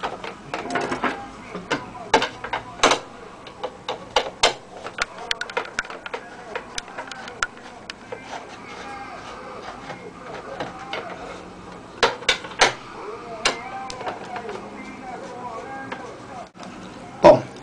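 Small metal screws being taken out of the back cover of a radio with a CD player and cassette recorder, giving scattered sharp clicks and ticks at an irregular pace, close and fairly loud.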